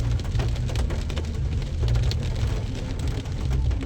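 Heavy rain pours over Makassar city streets, a dense, continuous hiss with a deep rumble beneath it, heard steadily and fairly loud from start to finish with no talking.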